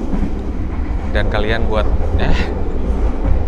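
Kahuripan economy passenger train on the Jogja–Blitar route, heard from inside the carriage as a loud, steady rumble with faint rail clatter beneath, while a person speaks over it.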